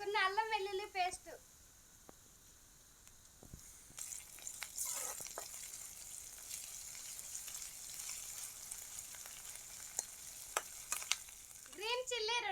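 Green chillies and ginger-garlic paste fry in a pan with a quiet, steady sizzle and occasional sharp spits, while a voice speaks briefly at the very start and again at the end.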